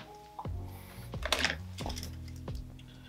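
A wire cutter snips a ground wire during kill-switch wiring on a Piaggio Citta scooter, with a few sharp clicks and snaps over steady background noise; no talking.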